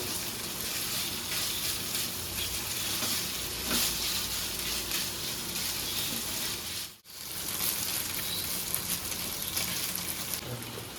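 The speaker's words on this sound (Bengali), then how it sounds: "পনিরটা দিয়ে আমি খুব বেশি ভাজবো না, সামান্য করে ভাজবো।" Paneer cubes frying lightly in a pan, a broad, continuous sizzling hiss that carries on steadily, briefly cutting out for a moment near the end before resuming.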